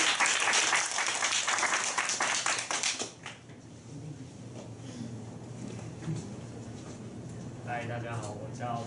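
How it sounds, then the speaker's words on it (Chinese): Audience at a small self-introduction meetup clapping loudly in a dense burst for about three seconds, then fading to a murmuring room with scattered sounds and a voice speaking near the end. "好 ，Anderson， 掌声欢迎。"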